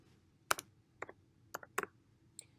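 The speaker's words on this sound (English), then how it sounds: "begin to type equals COUNTIF" Close, crisp keystrokes on a computer keyboard entering a COUNTIF formula into an Excel spreadsheet, falling as a few quick clusters of clicks with short gaps over a faint steady background hum.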